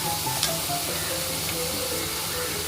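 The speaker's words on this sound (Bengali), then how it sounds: "তারপরে আবার নেড়ে চেড়ে নিলাম।" Spice masala with a pinch of sugar sizzles softly in a pan while being stirred for a katla fish curry, a steady low frying hiss with a faint clink near the start.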